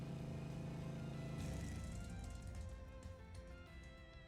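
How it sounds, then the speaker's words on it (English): A car engine in the video game Trails Through Daybreak during a street racing scene, a low droning hum that rises in pitch as it revs, then settles at a quieter steady tone, alone without talk. "I know the sound of that engine."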